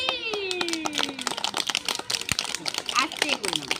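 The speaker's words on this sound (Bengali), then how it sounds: "বাহ, হাততালি।" A few people clap in quick uneven bursts for a child at school, close by, with a voice speaking over the clapping.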